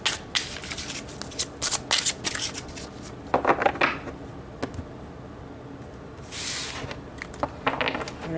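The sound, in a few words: tarot mediumship cards being shuffled and pulled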